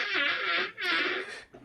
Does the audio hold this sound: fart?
yes